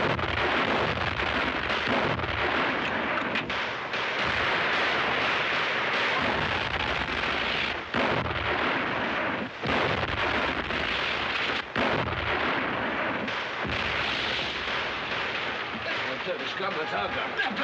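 Artillery fire shelling a town in a 1939 war film, heavy booming blasts and rumbling barrages filling the scene continuously, with voices calling out beneath the din.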